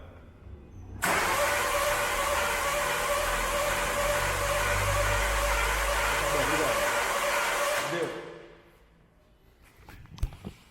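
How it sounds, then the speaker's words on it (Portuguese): A Nissan Livina with a fault near the spark plug seal cranks and fires up abruptly, runs at a loud, steady idle for several seconds, then shuts off and winds down to near quiet. "Pode ligar o carro."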